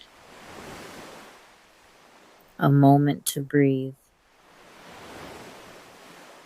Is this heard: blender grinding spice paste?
no